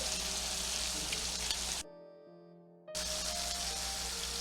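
Shrimp rolls made with brioche bread frying in a pan, a steady close sizzle that cuts out for about a second and then resumes at the same level.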